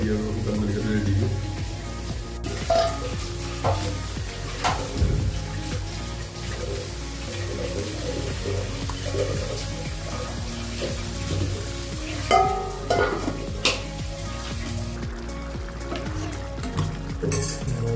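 Pork being cooked in a pan with ground tomato and dried chili, giving a steady close sizzle and frying hiss with occasional stirring scrapes and light clinks of utensils against the pot.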